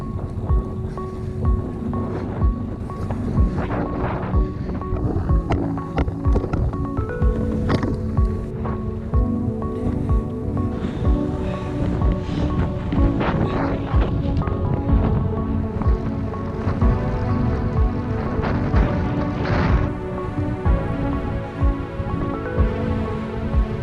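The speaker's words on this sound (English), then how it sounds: "this wind, I'm hoping it dies away a little bit" Gusty wind buffets the microphone of a rider on a Cube road bike climbing hilly Lincolnshire country lanes, a continuous rushing roar that swells and eases throughout, with no talking.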